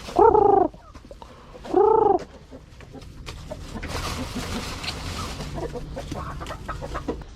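Chickens near their coop being fed torn pechay leaves: two loud, close squawking calls in quick succession, then a continuous low rustling and scratching bed of noise with no talk.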